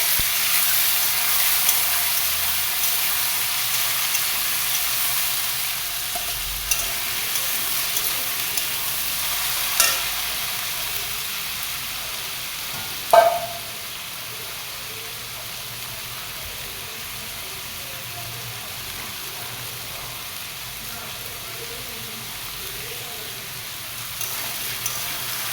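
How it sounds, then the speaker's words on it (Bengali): Potatoes fry in a pan with whole cumin seeds, giving a soft, steady sizzle and hiss throughout, with a few sharp clinks and stirring knocks along the way. "তারপরে এই আলুগুলো একটু ভেজে নেব।"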